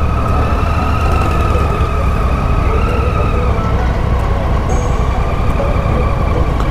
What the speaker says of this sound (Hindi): अब लग रहा है कि ट्रैफिक है कुछ यहाँ पे।